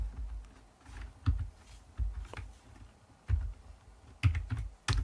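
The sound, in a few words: typing on a computer keyboard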